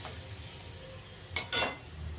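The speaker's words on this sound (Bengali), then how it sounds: "ভালো করে ডিমটা দিয়ে একটু ভেজে নেব।" Egg fried in a pan for an egg tadka, with a pinch of black salt: a steady, soft sizzle hisses throughout, broken near the end by two short, louder scraping bursts of stirring, with no voices.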